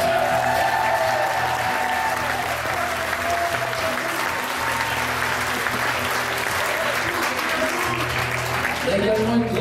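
A concert audience in Épinal, France, applauds the sound engineer, a dense, steady wash of clapping and some cheering that fills the whole stretch, with a low musical hum beneath and a voice surfacing near the end.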